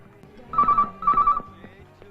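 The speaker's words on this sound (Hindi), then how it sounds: "लगता है कोई हमसे मजाक कर रहा है, फोन मत उठाना" A telephone rings in two electronic trills, each about a third of a second long, separated by a short gap, clear and close over faint background noise.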